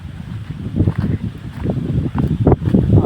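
Strong storm wind gusting over a farm with mango trees and standing millet crops, a loud, rough, low roar that swells and buffets the microphone in uneven bursts throughout.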